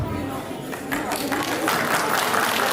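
Audience at a cultural festival breaking into applause, a broad wash of clapping swelling over crowd noise and voices, loud and continuous.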